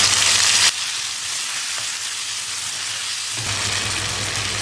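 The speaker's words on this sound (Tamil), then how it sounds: "வெங்காயம் தக்காளி நல்லா வதங்கிடுச்சு," Chopped onions and tomatoes sauté in hot oil in a pan for brinjal kootu, giving a steady, loud sizzle and crackle that runs the whole time with no voices over it.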